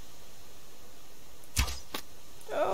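An arrow looses from a bow at a chicken in the survival game Subsistence: a sharp twang and whoosh, a second quick swish just after, then a brief rustle.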